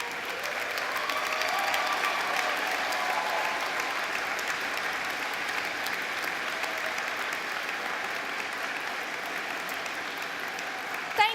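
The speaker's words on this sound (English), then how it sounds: "give both yourselves and everyone that supported you a round of applause" Graduates and guests at a 2019 business school diploma ceremony give a long, steady round of applause, a dense even wash of clapping from a large crowd in a big hall that holds unbroken for over ten seconds.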